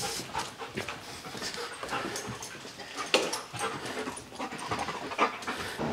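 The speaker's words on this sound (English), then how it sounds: "Sheriff's office with a canine! Make yourself known now! My dog will find you, my dog will bite you!" A sheriff's office police dog pants rapidly and steadily at close range, with quick breathy bursts and a few faint whimpers mixed in.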